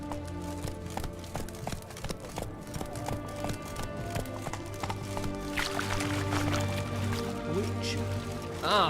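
Roach the horse gallops in The Witcher 3, rhythmic clip-clop hoofbeats running steadily under music and ambient game sound, with a voice speaking briefly over it.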